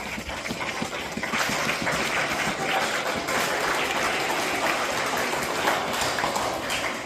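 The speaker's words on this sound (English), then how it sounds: "So students, I would like for us to give your parents a round of applause." Students at a middle school spring concert give their parents a round of applause, a continuous full-room clapping that holds steady and loud throughout.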